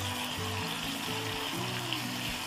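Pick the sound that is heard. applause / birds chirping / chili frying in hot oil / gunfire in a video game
chili frying in hot oil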